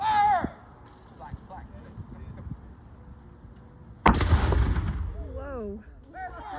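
A single loud gunshot on command at a Pee Dee back county day event in Lake City, South Carolina, cutting sharply through earlier talk, with voices reacting right after the blast.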